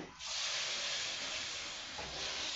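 Milk poured little by little into a hot pan of pink pasta sauce sets off a steady, loud sizzling hiss that starts abruptly and holds for a couple of seconds, with a slight dip near the end.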